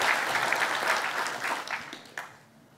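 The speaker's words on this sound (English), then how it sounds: "A round of applause for all of them." A conference audience applauds the speakers, a dense burst of clapping that starts loud and thins out over a few seconds, ending in a few scattered claps.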